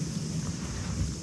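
Steady outdoor wind buffets the microphone with a continuous low rumble and broad rushing noise on a gusty day in a Japanese vegetable garden, alone without talk.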